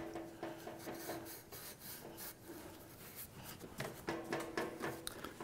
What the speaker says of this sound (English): I'm going to go ahead now and rub out on the end with just the Scotch-Brite